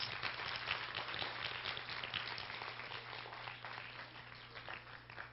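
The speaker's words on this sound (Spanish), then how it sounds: "Un fuerte aplauso para Sócrates." Steady, sustained applause from a crowd at an iconographic exhibition, a continuous wash of many hands clapping at moderate distance for several seconds without pause.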